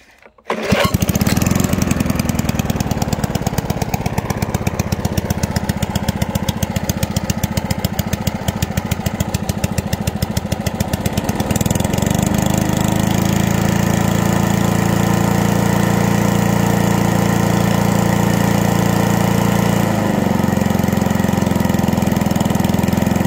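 A 1985 Mountfield M6 PowerDrive lawn mower engine starts and runs steadily and loudly throughout, slightly rough, with a shift in engine tone partway as the throttle is adjusted.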